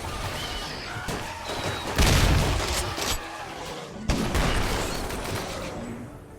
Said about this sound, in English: We just really do send this many bullets downrange.